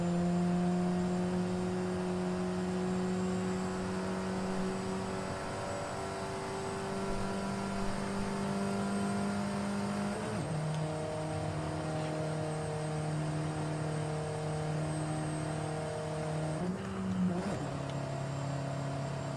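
A 2014 Alfa Romeo 4C, a mid-engine carbon-fiber limited edition sports car in Forza Horizon Mexico, cruises with a steady engine drone that shifts pitch at gear changes, loud and continuous with no talk.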